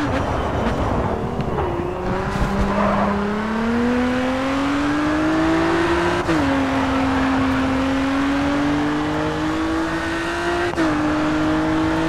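A battered Nissan GT-R race car in the racing game GRID 2 drones loudly and steadily, its engine note climbing through the gears with two distinct upshifts, close and continuous with no talking.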